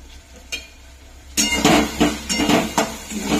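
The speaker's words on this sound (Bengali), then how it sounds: "সবগুলো ভালো করে মশলাগুলো ভালো করে কষে নিচ্ছে" Spices for a mutton curry being stirred and fried in a pan, with a spoon scraping and clattering against the metal in several bursts over a soft sizzle, heard up close with no talk.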